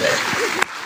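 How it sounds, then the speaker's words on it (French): Brief burst of audience applause at a conference, a broadband patter of clapping that ends abruptly, with a short voice fragment after it. "On peut les applaudir."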